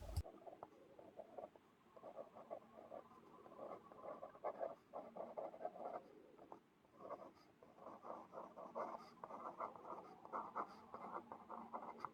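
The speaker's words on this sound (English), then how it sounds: "this here is my Sakura Gelly Roll pen, which I normally use" A Sakura Gelly Roll gel pen writing on paper, with soft continuous scratchy strokes and brief pauses between lines, close and quiet with no talking.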